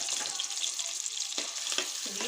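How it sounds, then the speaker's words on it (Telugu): Chopped onions dropped into hot oil in a pan for a capsicum masala curry. They give a dense, continuous sizzle and crackle close by, with a few brief stirring scrapes and no voices. "ఆయిల్ వేడెక్కిన తర్వాత ముందుగా ఉల్లిపాయ ముక్కలు వేసుకోవాలండి"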